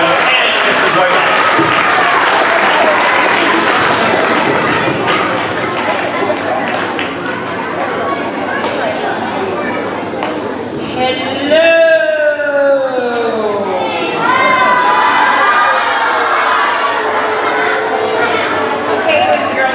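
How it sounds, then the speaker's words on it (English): An elementary school assembly crowd clapping and cheering for the second grade teachers, sustained applause mixed with chatter and bright, sweeping shrieks and cheers rising midway. "could we get a big round of applause for our second grade teachers?"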